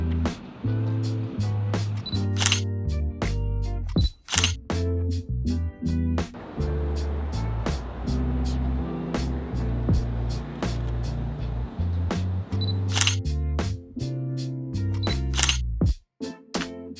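A Sony A7iii camera fires its shutter repeatedly during an outdoor downtown portrait shoot, crisp close clicks arriving in irregular bursts over a steady background of ambient noise and faint music.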